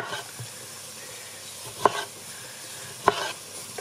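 Diced onion and tomato fry in a hot pan with a steady crackling sizzle, broken by two louder scraping stirs near the middle and end; no one speaks.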